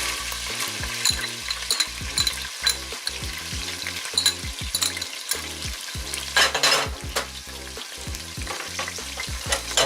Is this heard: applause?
no